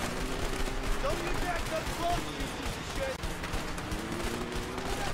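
Heavy gunfire from the video game A Way Out pours out as a steady, dense barrage with no break, with voices faintly mixed in underneath.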